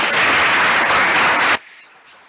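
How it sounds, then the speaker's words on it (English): A courtroom audience at a law moot prize-giving claps for the judges in loud, dense applause that stops abruptly after about a second and a half, leaving faint room noise. "let's have a round of applause for our judges."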